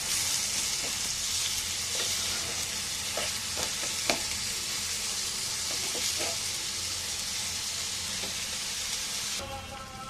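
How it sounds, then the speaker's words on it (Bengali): Onions frying in oil in a pan for a tilapia fish curry, a continuous hiss with intermittent stirring clicks and scrapes, close and steady with no talk. "আমি এখন মাছটা রান্না করার জন্য পেঁয়াজ মাছটা ভেজে নেবো"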